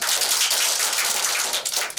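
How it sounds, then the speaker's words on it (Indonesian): Audience applause closing a micro teaching session for lecturers and master's students in education administration: a dense, steady patter of many hands clapping, fairly close and loud, with no talk, thinning slightly in the final moments. "Tepuk tangan kita semua."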